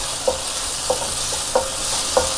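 Chili sauce and ketchup fry in a hot pan for egg fried rice, a constant loud sizzle with four evenly spaced taps of a spatula as the mixture is stirred.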